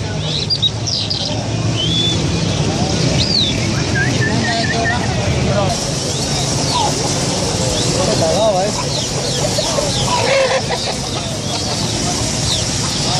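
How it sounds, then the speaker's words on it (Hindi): Repeated rooster clucks and bird chirps scattered through the clip, mixed with people talking nearby and steady background noise, at a bird market in Karachi. "मुर्गा तो बड़ा क्लास का रखा हुआ है तुमने उस्ताद"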